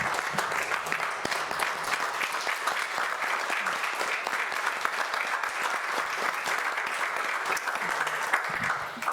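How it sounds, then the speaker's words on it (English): An audience at a college pitch competition event gives a sustained round of applause as a standing ovation, dense steady clapping throughout. "if we can give them one more round of applause and even a standing ovation"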